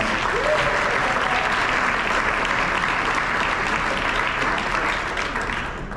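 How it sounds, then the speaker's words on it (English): An awards banquet audience for a high school basketball team breaks into sustained, dense applause, loud and close, holding steady for several seconds before easing slightly at the end. "let's give these guys another round of applause"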